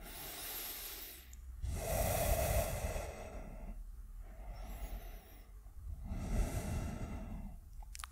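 Slow, deep breaths during a yoga core exercise, long inhales and exhales in a steady rhythm of about three cycles, close and fairly loud with no talking.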